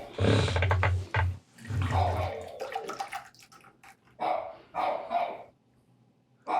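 Dogs bark in loud, excited bursts, with short pauses between volleys; the barking is close by and fairly intense.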